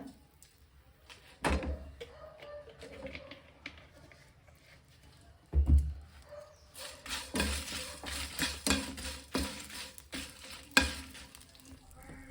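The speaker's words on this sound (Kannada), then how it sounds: "ಕರಿಬೇವಿನ ಸೊಪ್ಪನ್ನು ಲೋ ಫ್ಲೇಮಲ್ಲಿಟ್ಟು ಫ್ರೈ ಮಾಡಬೇಕು ಅದಕ್ಕೆ ಸ್ವಲ್ಪ ಕೊಕೊನೆಟ್ ಆಯಿಲನ್ನು ಆ್ಯಡ್ ಮಾಡಬೇಕು" Curry leaves sizzle and fry in coconut oil over a low flame, a soft crackle that swells into a busy, steady sizzle with occasional stirring scrapes and clatter of a pan; no talking.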